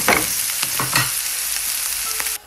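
Mushrooms sizzle and fry steadily in a pan with parsley and garlic, with a few scraping stir strokes near the start and a continuous close crackle until it cuts off abruptly.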